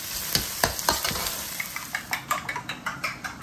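Rice wine hits a hot wok of Chinese chorizo and tuyo fried rice, setting off a bright sizzle with quick, repeated spatula clicks and scrapes against the metal.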